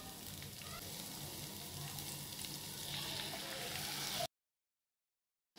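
Capsicum and soy sauce fry in a pan with a steady, close sizzle and occasional stirring scrapes, running evenly for about four seconds before cutting off abruptly.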